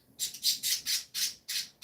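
Harsh, repeated squawks from a pet bird indoors, about eight loud, close calls in quick, steady succession with brief gaps between them.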